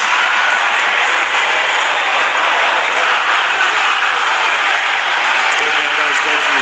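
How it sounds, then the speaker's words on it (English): A large stadium crowd of rugby league fans roars continuously at a 2025 NRL semi-final in Canberra, a dense wash of cheering and noise with no break. "The Sharks fans making themselves heard in Canberra"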